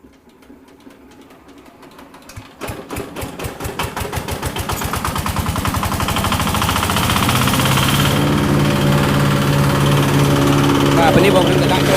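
An engine-driven grass chopping machine starts up and grinds cattle fodder, its motor rising from a rapid putter into a loud, steady, rough roar that runs continuously for several seconds.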